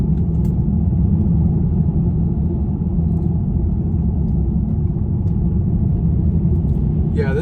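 A 2020 Genesis G70 2.0t AWD is driven through a series of turns, giving a steady, loud low cabin rumble of engine and road noise with no break.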